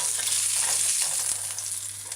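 Fish patty frying in oil in a pan on a stovetop, a steady close sizzle with dense crackling and popping throughout, a low constant hum underneath, no voices.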